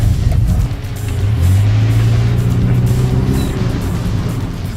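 A 1500cc Subaru car engine runs steadily while driving, with a low droning hum that rises in pitch as it accelerates. The sound is close and continuous, with no voices over it.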